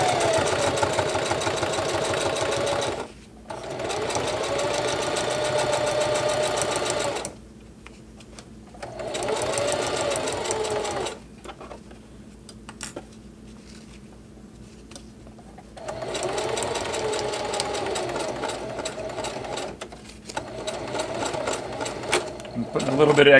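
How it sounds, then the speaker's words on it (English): Singer HD sewing machine stitching around the perimeter of a bottle carrier with a narrow seam allowance, running in steady bursts of rapid mechanical chatter separated by short pauses, close up, with a person talking in between. "I'm gonna sew all the way around the perimeter to lock everything together."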